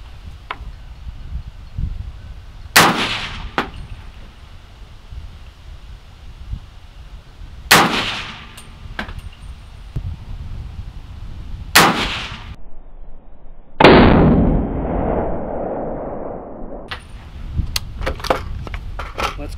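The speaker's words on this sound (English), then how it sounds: "So we're gonna shoot off, do a 3-shot group here at 100." Rifle shots from a Stag Arms 300 Blackout fired outdoors at a range toward a 100-yard target, three sharp loud cracks spaced several seconds apart with quiet pauses between, followed by a brief clank.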